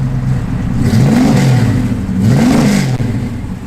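The engine of a 1969 Chevrolet Camaro revs twice, its pitch rising and falling each time over a steady, loud idle heard close up.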